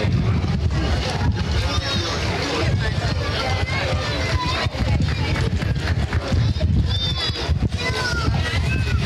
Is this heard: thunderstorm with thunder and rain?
no